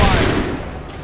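A rapid volley of musket gunfire from soldiers in the video game Assassin's Creed III, loud and close, a dense crackling burst that decays into a rumbling tail.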